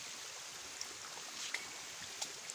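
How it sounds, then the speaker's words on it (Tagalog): Rushing water streams along a flooded rural dirt path during rain, a steady broadband wash with occasional small splashes, fairly close and continuous. "Lakas ng tubig, kahit daan, mayroon tubig."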